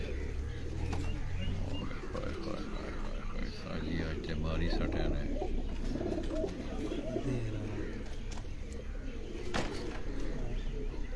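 Pigeons coo softly on a farm among other bird sounds, low murmuring calls running under steady talk from people nearby.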